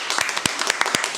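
A studio audience and production crew clap for a guest musician at the start of a Spanish-language interview show, a short, close burst of scattered, uneven hand claps.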